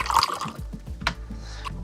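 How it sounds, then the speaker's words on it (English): Whiskey pours into a glass, close and clear, with a quick run of glugging, splashing pulses that soften into a few trailing trickles. "let's take this shot of the whiskey pouring into the glass"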